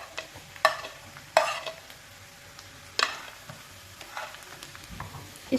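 Onions frying in a pan with ginger garlic paste, a soft steady sizzle broken by a few sharp stirring scrapes at irregular intervals.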